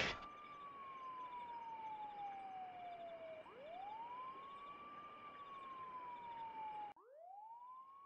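Police car siren in a horror video game, a clear wailing tone that sweeps slowly down and back up, fairly faint and steady with no talking, then cutting off abruptly near the end.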